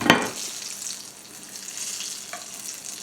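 Sweet potato hand pies deep frying in hot oil, a steady close hiss and sizzle after a sharp splash at the start, with faint crackles and no voices.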